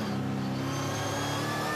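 A V8 SuperTourer race car powers around the Waikato circuit in New Zealand, its engine a loud, close, sustained high-pitched roar heard from on board, with no voices.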